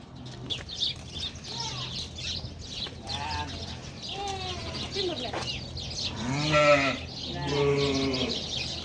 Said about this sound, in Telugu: ఇవి పొట్టేలు, ఇవి కూడా అమ్మేస్తారు.